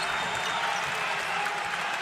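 A basketball crowd at a tied college game between Valparaiso and Bradley, on its feet with steady cheering and applause, a dense continuous roar filling the arena.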